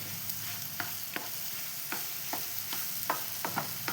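Sugar caramelizing in a pan for banana pudding, stirred with a spoon that clacks against the metal in scattered sharp taps over a soft, steady sizzle, with no talking.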